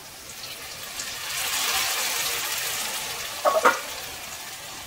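Chili powder fries in hot oil for a village-style egg curry, giving a steady, moderate sizzle close by. It swells slightly midway, and a few brief stirring clinks come near the end.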